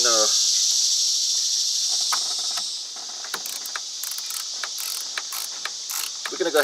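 A wrench ratchets and clicks while tightening a battery terminal on a 1994 Ford F150, with a steady hiss under it and a run of quick, close metallic ticks and clinks.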